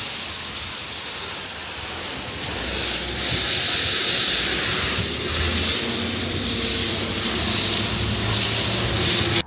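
A hand pump sprayer pressurized and spraying wheel and tyre cleaner onto a wheel: a close, loud, continuous hiss of spray that swells and dips slightly across the spell, with no talking.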